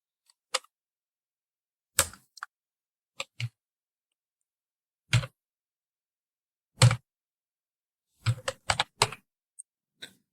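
Keys clack on a computer keyboard in scattered bursts, single taps and quick little runs separated by silent pauses, close and crisp with no voices.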